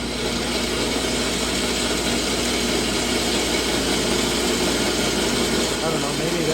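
A treadmill motor fitted to a Shopsmith woodworking machine runs at low speed as it is turned up, a steady, close mechanical whir and hum with a voice talking over it.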